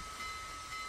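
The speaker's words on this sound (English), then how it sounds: "Slowly but surely, she moves under her own steam again." Steam locomotive, the Big Boy, working under its own steam, giving a steady broadband hiss and rumble with a constant tonal line running through it, moderately loud and without pause.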